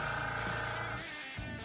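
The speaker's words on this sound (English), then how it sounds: "I'm gonna kind of do some test spray with it, just to make sure it's not coming out orange" An airbrush sprays gray paint in a test burst, giving a steady, close hiss that holds for over a second and then drops off.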